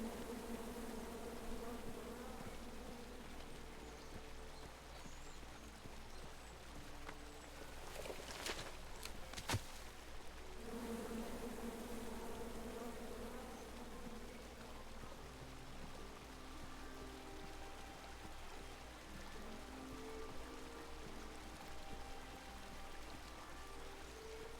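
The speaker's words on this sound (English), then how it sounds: "Come at me, bees!" A swarm of angry bees drones in a continuous low buzzing hum that wavers slightly over a long stretch, with a couple of brief sharp knocks partway through and no talk.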